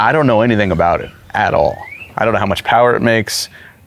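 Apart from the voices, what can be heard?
No distinct noise like a dog, phone or traffic.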